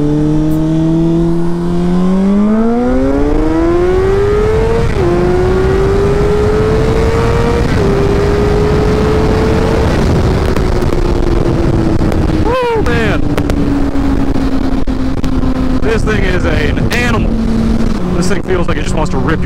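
A 2006 Honda CBR600RR motorcycle accelerating hard, its engine pitch climbing through the gears with shifts between pulls, loud and close with heavy wind rush over the microphone.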